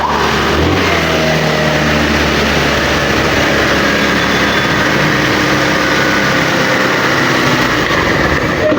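A motorcycle engine stuck at a high idle of about 4,000 RPM with no throttle applied, running loud and constant with a rough, busy roar throughout and no talk.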